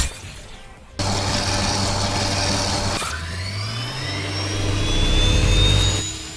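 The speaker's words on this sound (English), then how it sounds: "We've even got a bunch of sound effects here that point towards it having a charge up ability" A new mythic weapon in Fortnite charging up: a loud roaring whoosh kicks in abruptly, builds and swells with rising whining tones, then drops away near the end, heard alone without any voices.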